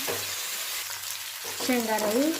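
Cluster beans and chopped green chilies sizzle and are stirred in a hot pan, a close, steady frying crackle, with a voice briefly heard near the end.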